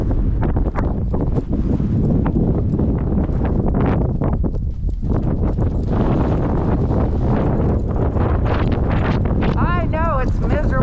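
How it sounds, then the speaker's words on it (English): Gale-force wind buffets the microphone in a loud, constant roar outdoors, with horse hooves clip-clopping and a person talking at points under the gusts. "I know it's miserable in the wind."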